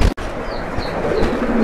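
Beauty magpie pigeons coo softly in a loft, faint and intermittent beneath steady background noise, with no speech.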